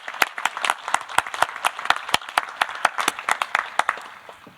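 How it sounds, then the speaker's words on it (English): Applause from the audience at a 2020 fall law school commencement ceremony: sparse, distinct hand claps ringing out alone in a fairly small group, steady for several seconds before tapering. "Let's give them a round of applause"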